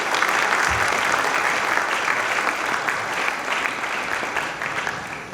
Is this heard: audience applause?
yes